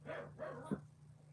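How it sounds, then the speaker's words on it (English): A dog, likely a Siberian Husky, gives a short, fairly faint yip or bark set against a quiet room with a low steady hum, in a sequence lasting just over a second. "Dog barking."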